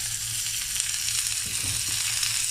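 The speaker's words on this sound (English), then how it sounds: "Now I'm going to add fine chopped onions and green chilies first." Finely chopped onions and green chilies fry in hot oil with a steady, loud sizzle that runs unbroken, joined by a few soft stirring sounds near the middle.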